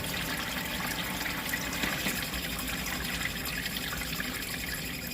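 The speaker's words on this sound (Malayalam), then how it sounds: "ഇപ്പോൾ പമ്പ് ഓൺ ചെയ്യുമ്പോഴത്തേക്കും വെള്ളം പമ്പ് ആവുന്നുണ്ട്. ബക്ക് ഓണായി വെള്ളം വീഴുന്നുണ്ട്." Water pumped inside a Clikon CK4000 rechargeable 8-litre air cooler trickles and falls continuously, a steady close wash of splashing water with no pauses.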